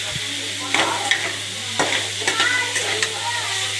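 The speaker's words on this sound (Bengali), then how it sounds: "দিয়ে আস্তে আস্তে কষুন আদা রসুনের পেস্ট" Taro being stir-fried with ginger-garlic paste in a hot pan, a steady sizzle with several scraping spatula strokes and light clinks of the utensil against the pan, close and clear.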